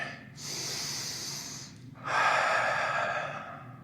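Two long, audible breaths during a yoga sun salutation, a steady inhale followed by a stronger, louder exhale, close and alone.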